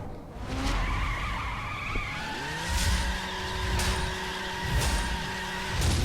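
A race car in The Crew revs and skids, its engine whining and rising through gears while tires squeal in repeated screeches and a few sharp bumps and clacks punctuate the steady engine drone.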